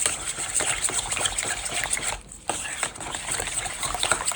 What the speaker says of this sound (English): let's get this all mixed together. Actually, you can use a spoon, a whisk, or whatever you want to do.